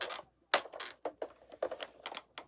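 Irregular plastic clicks and crunchy snaps in uneven bursts from a broken ratchet joint on a toy figure, close and fairly quiet, with gaps between them and no voices.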